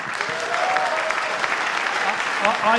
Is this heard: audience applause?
yes